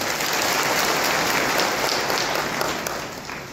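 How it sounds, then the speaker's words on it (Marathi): An audience at a public ceremony distributing housing approval orders claps in a dense, steady burst of applause that fills the whole moment and tapers slightly toward the end. "टाळ्या वाजवायला पाहिजे।"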